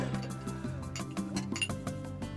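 Several glasses clink together repeatedly in quick light chimes, close by, with faint background noise.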